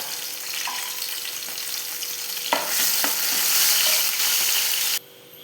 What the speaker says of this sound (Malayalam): ഇനി നമുക്കതിലേക്ക് ഒരു രണ്ട് പച്ചമുളക് വട്ടത്തിലരിഞ്ഞതാണ് അതൊന്ന് മുക്കിച്ചെടുക്കാം